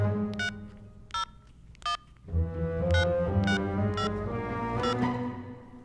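Mobile phone dialing tones: a series of short, clear electronic beeps spaced about a second apart, fairly close, with a thicker musical backing swelling in midway and no talk.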